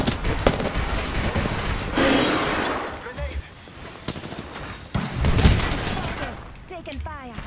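Rapid gunfire from an Apex Legends match crackles in dense bursts, loud and close, layered with other in-game action.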